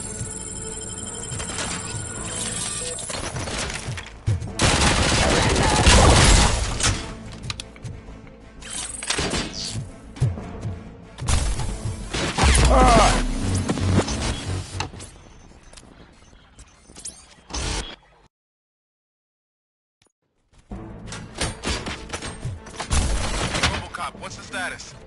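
Gunfire erupts in bursts from a RoboCop film scene, with loud rapid volleys and booms mixed with shouting, broken by a brief silent gap before more shots and commotion.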